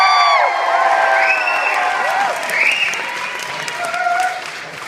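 Live audience at a competition event claps and cheers loudly after a host's call to make noise, with whoops and shouts rising over sustained applause throughout.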